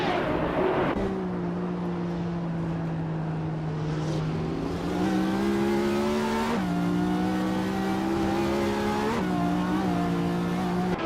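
Race cars in a racing video game, including an SSC Ultimate Aero Twin Turbo, drone loudly and steadily, their engine pitch rising and dropping through gear shifts with no talk over them.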